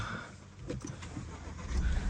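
A car that suddenly broke down is cranked in an attempt to start it, giving a rough, noisy engine churn with a deep rumble that swells louder toward the end.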